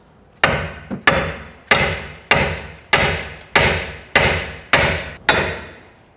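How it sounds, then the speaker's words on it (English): Nine heavy, evenly spaced hammer blows ring out against the steel steering knuckle of a 1992-1996 Toyota Camry during a hub and bearing job, each a sharp metallic strike that decays quickly, loud and close. "If not, you're going to use a hammer, just like we did on the knuckle here for the tie rod end."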